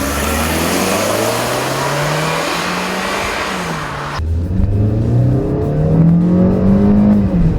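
A 2014 Hyundai Elantra Coupe engine heard from inside the cabin, loudly accelerating with rising revs, an upshift around the midpoint, then climbing again in the next gear.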